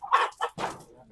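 Large three- to four-month-old chickens at a farm in Bukidnon give a few close, loud clucks and squawks in quick succession.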